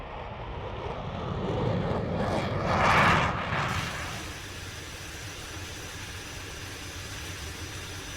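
Steady jet engine roar from a Concorde supersonic airliner, swelling briefly to a louder peak before settling into a continuous drone; no talking.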